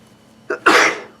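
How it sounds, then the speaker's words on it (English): A single sharp human sneeze, loud and close, with a brief intake burst just before the main explosive release, then quiet. "I haven't done my morning sneezing yet, so that's what that's from"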